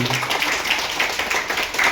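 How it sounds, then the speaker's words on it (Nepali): An audience claps and applauds at a community organisation's fifth foundation day ceremony in Ramechhap, Nepal. The applause is a steady, dense patter that lasts the whole two seconds, with a brief low voice near the start. "उहाँलाई जोरदार तालीले धन्यवाद दिनु"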